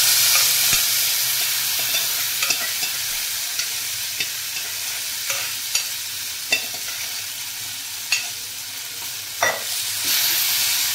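Green moong and turmeric stirred into fried onions in a pan, giving a steady close sizzle broken by sharp spoon scrapes and clicks against the pan every second or so.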